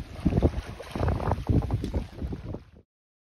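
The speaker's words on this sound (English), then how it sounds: "Pretty windy." Strong wind blows across open water near canoes, making steady roaring gusts and buffeting against the microphone for a few seconds before cutting off abruptly.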